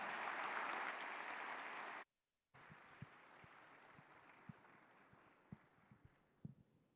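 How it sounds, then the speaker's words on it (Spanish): Audience applause at a conference lecture: dense, steady clapping for about two seconds, then a brief silence, followed by quieter room noise with scattered soft knocks and thumps. "y un aplauso también"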